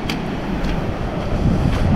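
Strong river current rushing across a rocky, muddy crossing on Scotland's Cape Wrath Trail, a steady close broadband roar of water mixed with wind buffeting, with no voices.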